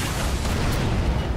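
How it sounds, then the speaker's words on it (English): A grenade blast in Halo 3 during legendary co-op play: a loud, broadband rumbling roar that holds steady for over a second, with no quiet gap. "It's a grenade, not a hacky sack."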